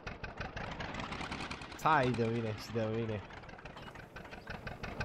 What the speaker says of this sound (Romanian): Mamă, sunetul ăla de bătrân. Ia auzi dieselul